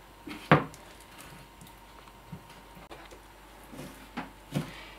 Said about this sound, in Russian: Теперь продолжаем нарезать крылышки.